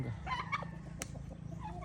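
Chickens on a farm cluck in quick bursts with a brief crow-like call, fairly close, over a steady low background hum and no talk.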